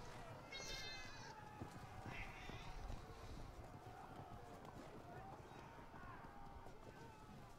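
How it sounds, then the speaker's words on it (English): A domestic cat meows a few times in short harmonic calls, mid-distance, over busy background noise and game sounds during a wargame session. "Yes, I have a cat."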